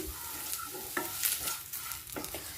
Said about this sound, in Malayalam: നാളികേരം നന്നായി വറവായിട്ട് വരണം